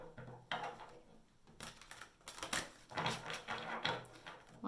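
Crisp riffling and flapping of cards in several quick bursts, close by, with short pauses between shuffles.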